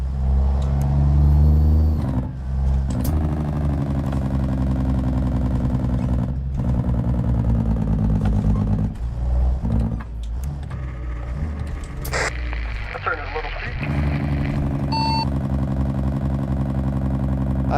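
A truck engine drones steadily while driving in a truck-simulator convoy game, a loud continuous rumble with a few brief gear-change dips throughout.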